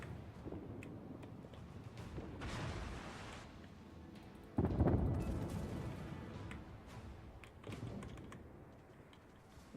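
Heavy naval guns fire in a World of Warships battle, with two loud, booming broadband salvos about two seconds apart and a rumbling tail under a steady background of game noise.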